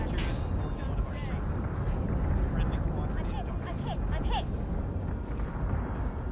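Incoming fire and rumbling explosions in a Battlestar Galactica space battle game, a continuous heavy barrage of blasts and impacts, with someone narrating over the din.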